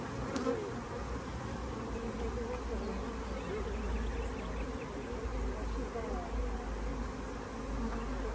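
Honey bees from a big, busy hive full of foragers drone in a steady, dense buzz that holds close and continuous throughout, with individual insects whirring past now and then.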